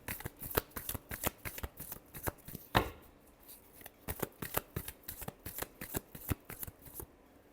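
Tarot cards are shuffled by hand in quick bursts of crisp riffling and slapping, close and fairly quiet, with a brief louder cascade midway and no speech.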